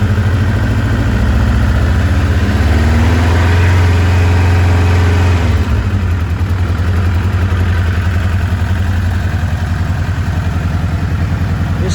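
A freshly restored motorcycle with new pistons and tires fires up from nearly cold and settles into a loud, steady idle, its close mechanical drone running unbroken with a slight shift in pitch partway through.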